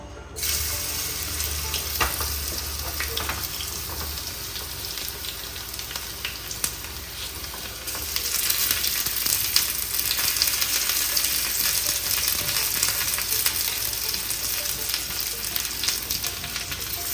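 Chopped garlic sautés in hot oil in a pan while cooking spinach, giving a steady, close hiss that grows louder and brighter partway through, with no talking.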